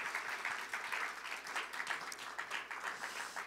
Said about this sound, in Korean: 우리 함께하는 지체들 동역자들에게 박수로 한번 격려해 주시기 바랍니다